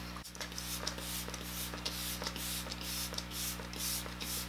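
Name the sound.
setting spray being sprayed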